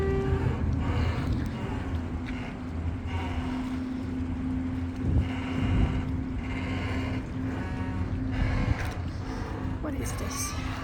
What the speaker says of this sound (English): Can you hear that boat making those noises?